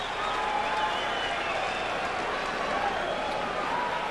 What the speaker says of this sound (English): Listen to the crowd, man.